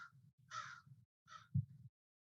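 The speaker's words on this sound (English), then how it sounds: "Have you got ravens or crows in your backyard?" A crow gives three harsh caws in an uneven rhythm, moderately close and clear against a quiet background, with no voices.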